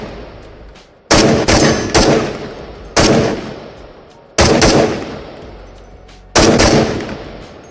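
Gunfire in a VR shooter game played with a gun stock: five loud, sharp reports spaced about a second apart, each ringing out and decaying before the next, with no talk.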